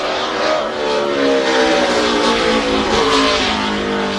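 A 2007 NASCAR Cup car screams through a qualifying lap at Sonoma road course, engine loud and steady with shifting harmonic pitch across the whole stretch, no talk over it.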